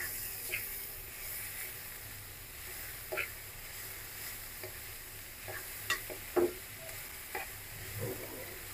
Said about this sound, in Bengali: এবার ভালো করে উপর নিচ করে নাড়াচাড়া করতে হবে।